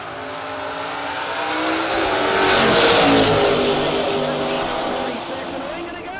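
A 1967 Chevrolet Nova and a Ford Mustang launch side by side in a no-box drag race, engines roaring loud and close as they swell to a peak midway and then fade slightly, with an announcer talking over the noise.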